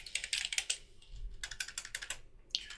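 Rapid clicking keystrokes on a computer keyboard, close and fairly quiet, coming in quick bursts with a short pause midway and no talking.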